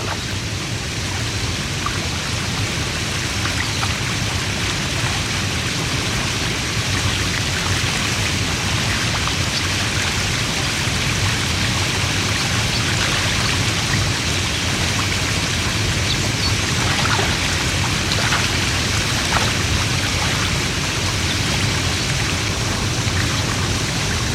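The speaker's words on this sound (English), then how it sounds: "As the water tumbles down the mountain, it becomes warmer and gathers nutrients" Water from a mountain torrent on Kilimanjaro tumbles down rocks in a dense, steady rush. The hiss is loud and unbroken, with no voices.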